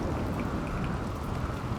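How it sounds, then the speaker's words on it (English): Steady rain falls with a soft, even hiss and faint rumble in the RimWorld video game, a constant wash of moderate loudness with no voices over it. "It's raining."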